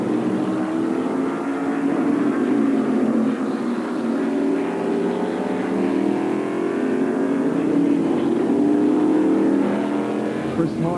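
Formula 5000 race cars at the Tasman Revival Series at Ruapuna in 2008, their engines giving a loud, continuous roar that rises and falls in pitch as they race, with faint commentary underneath.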